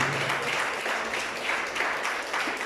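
A church congregation applauds in praise of Jesus during a sermon, a steady dense wash of many hands clapping for a few seconds, moderately loud with no voice over it.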